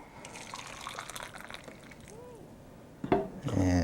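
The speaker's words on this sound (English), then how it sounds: "now I'm going to fill up my hot one with water from a kettle" Hot water poured from a kettle into a cup, a steady liquid gush with a rising fill tone, growing louder near the end, with a little background talk.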